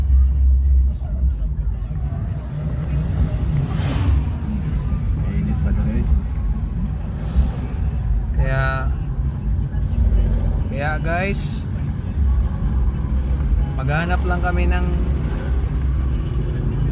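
Road traffic from a long line of vehicles crowding the approach to a large rally: a steady low engine rumble with passing vehicles, mixed with crowd babble and nearby voices talking.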